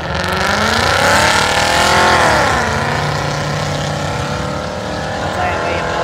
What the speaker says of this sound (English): Those things look weird doing burnouts and slingshots.